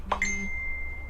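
A phone notification gives a single bright ding that rings out and fades over about a second, alone and fairly clear in a quiet room.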